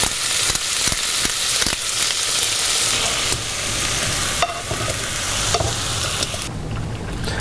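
Beaver meat simmers in a pot during a hunting cooking show and is stirred with a spoon. A steady, close bubbling sizzle is broken by occasional scraping clicks, with no talking.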